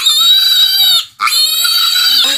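A pig squeals loudly and piercingly during castration, one long shrill scream, a brief gasp for breath, then another sustained squeal, very close.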